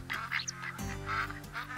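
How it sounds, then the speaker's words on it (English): Ducks quack repeatedly in the hunting game Call of the Wild, a flock of several birds calling in short overlapping bursts at moderate distance with no talk. "Look at all the ducks right in front of us."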